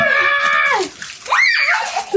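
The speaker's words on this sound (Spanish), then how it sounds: "Sí, échale agua normal. Con la manguera, con la manguera." Water from a garden hose splashes and rushes while rinsing Coca-Cola off after a Coke and Mentos giant balloon explosion, a loud close spray mixed with children's shouting and squealing voices.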